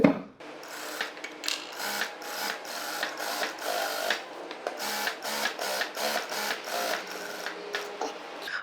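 A sewing machine stitching a tack on a blouse runs in quick mechanical bursts, its rapid rattling needle stopping and starting several times, close and fairly quiet with no voices.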